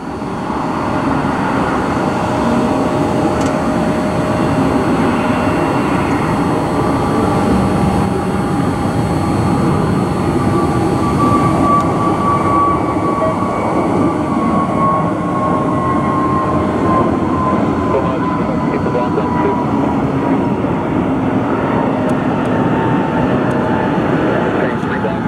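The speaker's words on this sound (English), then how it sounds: "Frontier A320neo heading to Fort Myers," A Frontier Airbus A320neo departing toward Fort Myers, Florida, on a New Year's spotting day at Cleveland gives a loud, steady roar that stays continuous the whole time, with a slowly sliding whine on top and a voice speaking briefly near the start.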